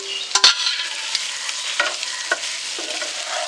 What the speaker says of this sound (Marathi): त्याच्यामध्ये आता आपण बटाट्याची फोडी टाकणार आहोत.